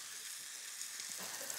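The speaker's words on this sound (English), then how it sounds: "Just give that a coating with the oil and just let that sizzle away for a moment." Garlic and ginger sizzling in hot oil in a pan, a steady soft hiss of frying with faint crackles, quiet and continuous.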